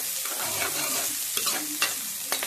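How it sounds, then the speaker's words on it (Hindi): Ginger-garlic paste and finely chopped onion sizzle gently in a pan as a spoon stirs them, with several scraping clicks against the metal heard up close. "अब इन सब चीजों को अच्छे से हम मिक्स करेंगे।"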